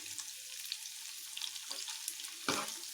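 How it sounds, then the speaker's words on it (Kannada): Ten eggs frying in oil give a faint, soft sizzle with scattered light pops, then a louder scrape or stir near the end. "ಈ ಮೊಟ್ಟೆನ ಸ್ವಲ್ಪ ಫ್ರೈ ಆಗಲಿ ಎಣ್ಣೆಯಲ್ಲಿ."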